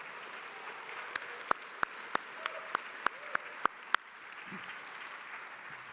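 An audience at an ACDI/VOCA 50th anniversary event claps steadily throughout, with a few sharper individual claps standing out near the start before the applause fades toward the end.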